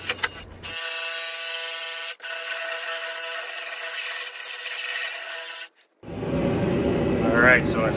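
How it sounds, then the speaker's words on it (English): Abrasive tool grinding old spot welds and rust down to bare metal on the lower right body panel of a Land Cruiser BJ60/FJ60, a steady loud whining rasp with brief pauses and a shift in pitch near the end. "I'm doing here is just cleaning up all the old spot welds and rust, making it nice and flat and bare metal"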